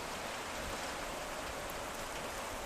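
Steady rain falls at an outdoor grill in Monticello, Kentucky, a dense continuous hiss of drops on surfaces, even and fairly soft, with no talking.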